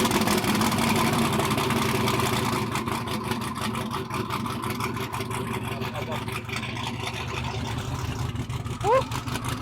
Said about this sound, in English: We're about to get this truck started here.